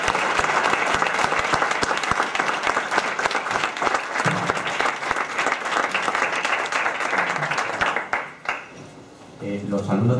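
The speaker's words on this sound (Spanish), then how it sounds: "Y yo le recibiría un nuevo aplauso porque ha sido magnífico." Applause from a lecture hall audience after an inaugural lecture, dense steady clapping that carries on loudly for several seconds before thinning out, followed by a few voices.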